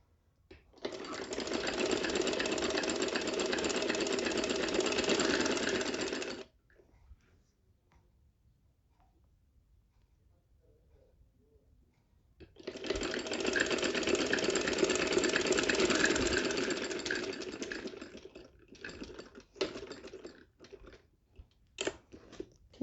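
A sewing machine stitches trouser fabric in two long steady bursts of rapid whirring, separated by a quiet pause, with brief short runs near the end.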